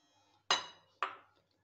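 Two bright clinks of a utensil against a bowl while dough is mixed with ghee for milk-powder rasmalai, each ringing briefly and close by in a quiet kitchen.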